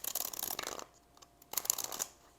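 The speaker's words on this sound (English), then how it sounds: "So it's quite large, but I don't have issues with shuffling it." A large tarot card deck is shuffled by hand in two quick bursts of crisp riffling, close and clear, separated by a short quiet pause.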